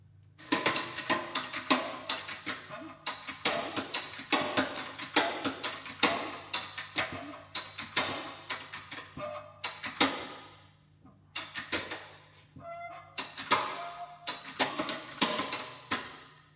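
A ratchet drives a 1.5 drive socket on a Mack truck brake job, producing loud, close bursts of rapid clicking in repeated strokes separated by short pauses.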